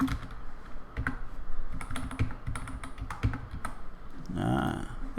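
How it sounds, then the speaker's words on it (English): Rapid typing on a computer keyboard, close and steady, with irregular clusters of clicks and brief pauses before a short tonal burst near the end; no one speaks. "Let's keep typing."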